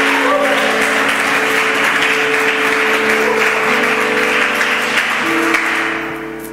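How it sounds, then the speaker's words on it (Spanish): Congregation applause during a church sermon, a loud continuous roar of clapping under sustained music tones, holding steady then tapering off at the end. "Aplauda su libertad."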